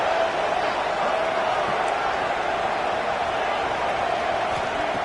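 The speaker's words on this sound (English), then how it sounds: "And here comes the noise. This crowd is trying to inspire this defense to make a big red zone stop." A large stadium crowd at an Auburn versus Oregon college football game roars continuously as the defense faces a red zone stop, a dense, sustained wash of noise with no break throughout.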